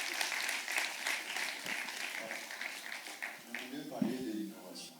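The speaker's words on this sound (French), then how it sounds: "Il fallait applaudir pour elle." An audience applauds at a public talk, a dense spread of clapping that fades over a few seconds while a voice begins speaking toward the end.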